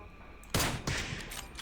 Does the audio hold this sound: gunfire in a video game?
yes